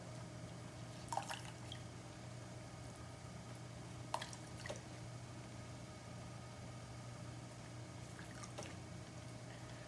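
A few faint drips of water fall from a freshly thrown clay pot at scattered moments over a steady low hum, quiet and close by.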